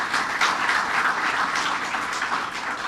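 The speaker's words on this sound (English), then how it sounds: "Let's give him a round of applause." A crowd at a legislation signing for the LaGuardia AirTrain project gives steady, dense applause that holds at a constant level throughout without a break.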